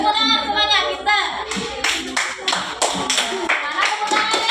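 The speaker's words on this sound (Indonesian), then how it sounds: "Oke, tepuk tangan semuanya, pintar." Children in an Indonesian classroom clap their hands together in a burst of loud, quick, uneven claps, with a teacher's voice speaking over the start before the clapping takes over.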